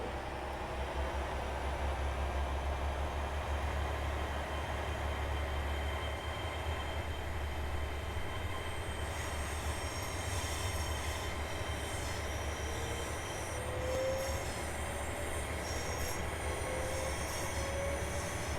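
A simulated train in Train Sim World 6 runs along the Riviera Line, giving a steady loud rumble of wheels on rails with sustained squealing tones and faint clicking, no voices.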